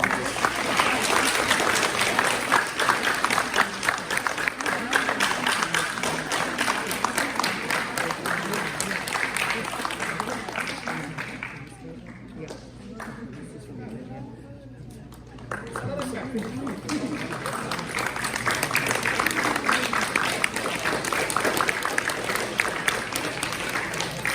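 Audience applause at a Pongal festival celebration, following a statue unveiling, as a dense, steady clatter of clapping that briefly thins midway before swelling again, with voices mixed in.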